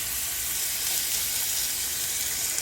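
Chicken tenderloins fry in a hot pan with a steady, even sizzle and crackle held close and loud, continuous for the whole stretch with no talking.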